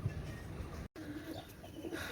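Fancy pigeons, including Pakistani royal teddy birds, coo softly in low, rolling calls, fairly faint and close. There is a brief dropout partway through.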